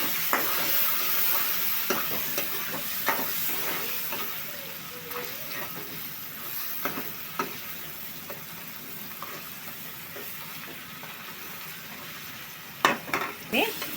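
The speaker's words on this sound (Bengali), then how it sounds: "চিংড়িতে ভালো করে ভাজবো। আমি চিংড়ির মধ্যে হলুদ দিয়ে দিব ভাজার জন্য।" Shrimp coated in turmeric fry in hot oil in a pan, a constant crackling sizzle broken by scraping stirs and occasional clatters of a spatula, close and steady with no voices.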